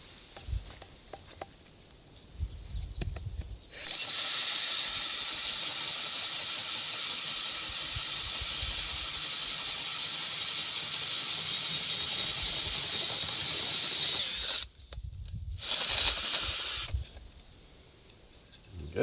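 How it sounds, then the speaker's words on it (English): A 25mm spade bit drills steadily through a rain stick tube outdoors in fynbos scrubland, a loud continuous grinding whine lasting about eleven seconds, then a brief pause and a second short burst, with quiet ambience before and after. "So we're just going to drill it"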